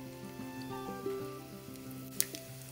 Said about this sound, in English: When the mustard starts popping